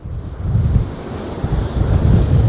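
Sea waves break and wash on Marine Beach at Fleetwood near Blackpool in the UK, a loud, continuous low rumble of surf mixed with heavy wind buffeting the microphone.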